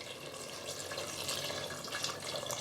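Coconut milk and water pour steadily into a pressure cooker, a soft continuous splashing and gurgling, fairly quiet with no talking.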